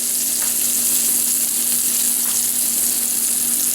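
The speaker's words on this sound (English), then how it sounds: "The steak goes right in the pan." Strip steak searing in extra virgin olive oil in a steel pan, a steady loud broadband sizzle and crackle that holds unbroken throughout with no talking.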